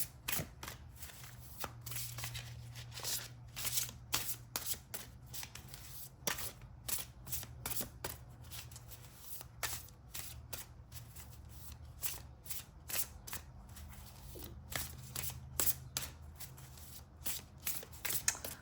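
Tarot cards being shuffled by hand, a steady run of crisp riffling flicks and soft slaps repeating close up for the whole stretch, with no talking.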